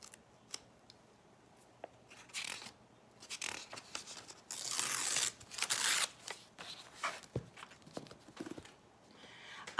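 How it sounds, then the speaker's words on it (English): Paper torn by hand for a decoupage craft, with a few short ripping and crinkling sounds close by, including one louder, sustained tear in the middle and scattered small handling noises. "I'm just going to tear off a piece"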